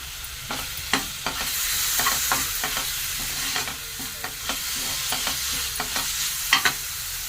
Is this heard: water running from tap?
no